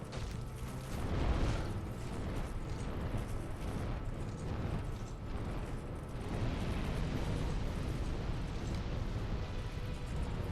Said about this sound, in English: I don't like this fire because I can't tell what's damaging and what's effects